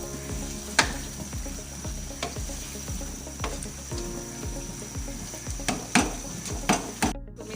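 Aloo keema with green chilli and fresh coriander frying in a pan, a loud continuous sizzle broken by repeated scraping stirs and a few sharp clanks of the spoon against the metal, no voices.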